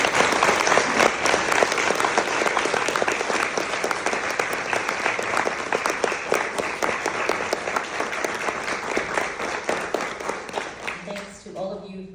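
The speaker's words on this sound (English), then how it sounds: "Let's give her a round of applause" Sustained audience applause fills the room steadily for about eleven seconds after a talk at an art museum event, fading at the very end as a voice begins.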